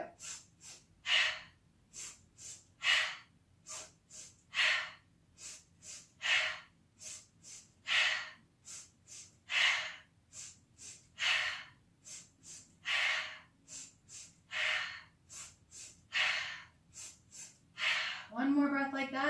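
Rhythmic breathing from a yoga breathing exercise done while the legs pedal in a bicycle motion: about two dozen quick, evenly paced breaths, each a short burst of airy noise, close and fairly loud with no talk over them.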